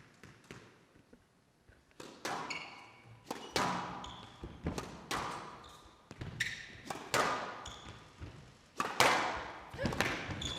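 A squash ball struck hard cross court during a professional women's match at the Windy City Open 2020, with a string of sharp, echoing thuds off the racket and walls in an indoor court, along with some crowd and commentary.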